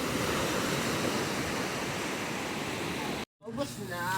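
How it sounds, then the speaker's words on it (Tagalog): Ocean waves wash and hiss continuously near a boat's path, broad and steady, then cut out abruptly before resuming with faint voices in the background. "Malaki na naman ang alon."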